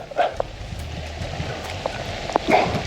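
Summer rain falls steadily at a wild carp-fishing water, a soft diffuse patter with a few louder nearby drops and rustles over about three seconds.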